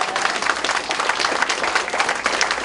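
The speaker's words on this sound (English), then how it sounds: "You can definitely applaud John Lewis." A crowd at a campaign event in Lebanon, New Hampshire applauds for John Lewis, a steady, dense burst of clapping that carries on throughout.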